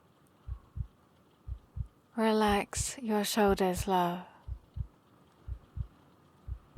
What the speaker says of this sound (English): Listen to my heartbeat.